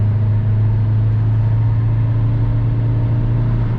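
A Ford Tourneo Connect with a 1.8 110 hp engine drones steadily under load, a loud, even low hum that holds without any break.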